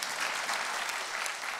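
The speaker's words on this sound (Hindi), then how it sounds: "इसके लिए ताली बजाओ।" An audience claps at a Swami Ramdev Patanjali gathering in Patna, Bihar. The applause is a steady, dense patter of many hands, continuous and moderately faint, with no pauses.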